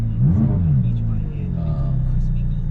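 A 2017 McLaren 570S twin-turbo 3.8 litre flat-plane-crank engine idles with a deep, steady rumble, rising in a brief rev near the start before settling back to a low throb.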